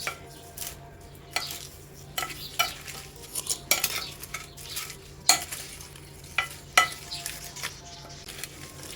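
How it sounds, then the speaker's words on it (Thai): Raw shell-on shrimp are tossed with sugar in a bowl before freezing, wet squelching and shuffling with irregular clinks and scrapes of a utensil against the container, close and without talk. "คลุกเขาเลยค่ะ เพื่อให้เขาเพื่อให้ตัวน้ำตาลเกาะกุ้งนะคะ"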